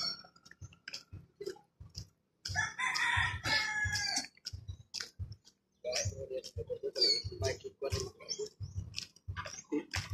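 Chickens cluck and a rooster crows in bursts, mixed with nearby talking and scattered clicks.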